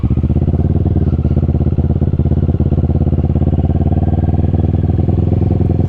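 Kawasaki Ninja motorcycle engine idling erratically with a racing throttle, a loud, close, steady pulsing drone that holds at a high idle throughout without settling.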